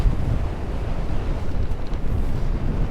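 Steady wind blows across open ice on a frozen lake while ice fishing for crappies, a continuous low rushing roar buffeting the microphone with no speech.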